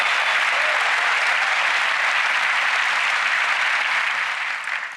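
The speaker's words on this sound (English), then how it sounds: "A round of applause as she retakes her seat." Studio audience applause at a magic competition show, a steady, dense wall of clapping that holds loud and even throughout before easing slightly at the very end.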